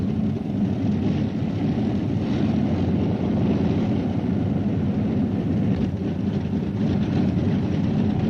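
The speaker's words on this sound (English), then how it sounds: "Colonel Tibbets' plane, with the bomb partially assembled and racked up, is tenderly taxied down to the remotest end of the runway." A WWII bomber taxis down a runway, its propeller engines giving a loud, steady droning roar that holds unchanged throughout without any speech.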